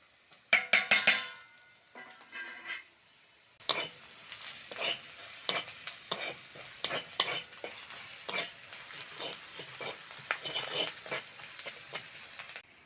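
Onion and green chili fry with turmeric and salt in a pan. A soft sizzle sits under repeated scraping stirs and clinks of a utensil against the pan, close and fairly quiet after a brief pause.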